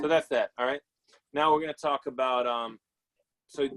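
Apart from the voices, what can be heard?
No everyday noise stands out behind the speech.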